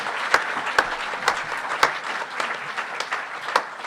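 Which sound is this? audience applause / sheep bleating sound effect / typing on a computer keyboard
audience applause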